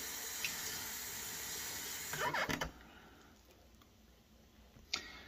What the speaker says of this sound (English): And then I like to add just a little bit of warm water.